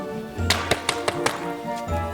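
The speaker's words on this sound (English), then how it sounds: "She came to the house of the 3 bears and she knocked on the door." Knocking on a house door, five sharp taps spaced roughly evenly over a soft hum of background, fairly close and moderately loud, with no talk.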